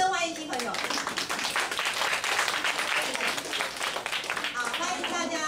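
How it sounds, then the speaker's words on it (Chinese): An audience breaks into sustained applause to welcome first-time visitors at a weekend afternoon science event, a dense, steady wash of clapping that lasts throughout. "我们掌声欢迎新朋友"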